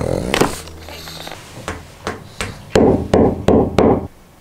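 A hammer knocks several times in a row, with four loud evenly spaced hard hits toward the end following a few quieter taps, close and sharp.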